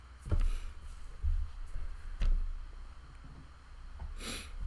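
Several short, close sniffs through the nose, spaced a second or so apart, with a faint breathy rustle near the end.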